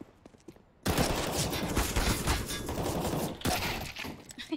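A CZ pistol fires in the game CS:GO, a sudden loud burst of gunfire that breaks a quiet start and keeps rattling on, with a second burst near the end.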